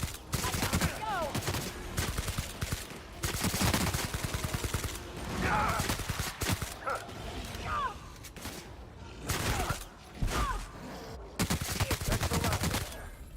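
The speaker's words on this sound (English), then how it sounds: "my guns just tear through them, don't they?" Gunfire from the player's weapons in The Outer Worlds, with repeated bursts of sharp shots in uneven clusters over a busy combat mix, and occasional short voices between the volleys.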